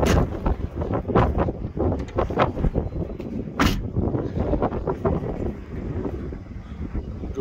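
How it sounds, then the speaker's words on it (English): Gusty outdoor wind buffets the microphone beside a 2023 Ford Transit XLT passenger van, producing loud, rumbling bursts that rise and fall unevenly throughout. "Stupid wind."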